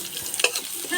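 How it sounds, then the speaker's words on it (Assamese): Garlic-ginger paste sizzles briefly in a hot pan for a meat curry, with a quick stir-scrape in the middle of a short, close burst. "ৰচুন আদা পেষ্টখিনি দিয়াৰ পিছত এইখিনি অলপ ভাজিম ৰচুনৰ গোন্ধটো যোৱালৈকে"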